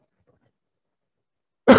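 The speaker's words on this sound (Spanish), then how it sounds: "Disculpen por el temita de la tos." A single cough bursts out near the end after a long stretch of silence, close and fairly loud, short and harsh with a throaty edge.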